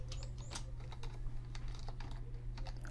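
Quiet, steady typing on a computer keyboard while filling in a lesson plan template, irregular clicking keystrokes over a low constant hum, with no talking.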